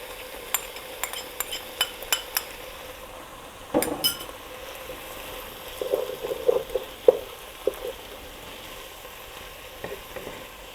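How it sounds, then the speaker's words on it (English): Vegetables with added garlic sauté in a pot for minestrone soup, giving a faint background sizzle broken by a series of sharp utensil clinks and scraping stirs against the pot. "These vegetables have been sauteing for about 7 minutes."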